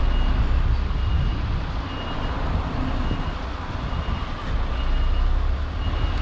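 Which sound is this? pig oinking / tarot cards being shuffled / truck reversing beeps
truck reversing beeps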